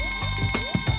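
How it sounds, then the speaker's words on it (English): An electronic fire alarm sounds in a laboratory emergency drill, steady tonal beeps with rising sweeps repeating in a fast, insistent pattern, loud and close with no voices. "Evacuate calmly and quickly whenever a fire alarm sounds."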